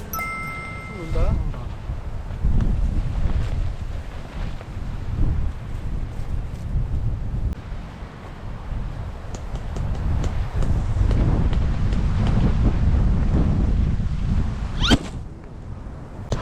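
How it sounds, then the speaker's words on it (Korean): Strong gale-force wind buffeting a campsite while tents are pitched, a steady loud rushing roar with gusts and microphone buffeting, voices talking now and then over it. "바람 장난 아니다."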